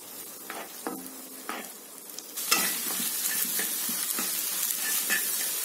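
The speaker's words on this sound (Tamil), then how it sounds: "முட்டையை சேர்த்திட்டு முட்டையை நல்லா வறுத்துடுங்க." Three eggs frying in a pan with half-sautéed onions for egg fried rice, a soft sizzle that grows louder as the eggs hit the hot pan, with a few clinks and scrapes of stirring.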